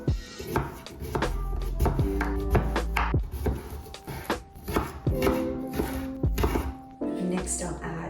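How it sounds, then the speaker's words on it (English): A knife chops washed sweet potatoes into small pieces on a cutting board, making a quick, irregular run of close, sharp thunks. "I just washed these sweet potatoes well, and now I'm gonna chop them into small pieces"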